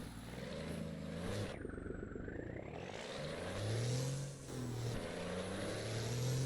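A heavy truck engine in Euro Truck Simulator 2 drones steadily and loud, its pitch dropping and climbing as gears change, briefly easing off before pulling hard again.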